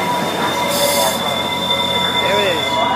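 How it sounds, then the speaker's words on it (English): A SunRail commuter train pulls into a station, its wheels squealing loudly and close by in long, wavering high-pitched screeches over the rumble of the railcars. "Another southbound SunRail is now coming."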